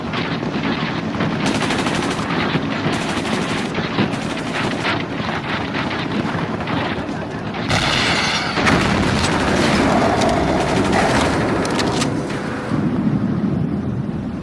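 In the video game Ghost Recon 2, a pipeline is blown open with gunfire as a loud, relentless roar of rapid automatic shots sounds close up. A brief harsher burst comes midway, then heavy, noisy fire carries on.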